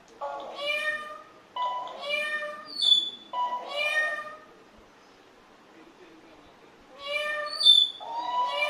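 Several clear meow-like calls in bursts with pauses between, close and fairly loud, sounding like a bird imitating a cat's mew.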